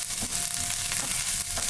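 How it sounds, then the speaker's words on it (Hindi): Green chili and ginger sizzling in hot masala in a pan while being stirred, for a Marwari tomato launji; a steady, close frying hiss with a few soft scrapes, no talking. "अब इसमें हरा मिर्च डाल देते हैं, ये अदरक डाल देते हैं, इसे थोड़ा चला लेते हैं"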